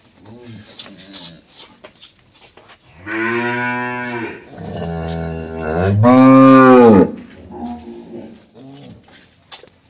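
Improved-breed dairy cows at a dairy farm give two loud, drawn-out moos close by, with people chatting and birds faintly audible between them.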